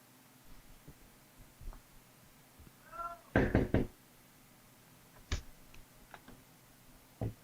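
Heavy thuds and bangs of a neighbor forcing in a door, a short cluster of loud blows followed by a few sharp knocks over a quiet room hum.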